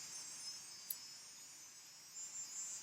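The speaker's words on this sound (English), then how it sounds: "You gotta love the cicada noise that's going on here." Steady high-pitched insect buzzing from cicadas, a continuous shrill drone that holds evenly throughout with one brief sharp click partway.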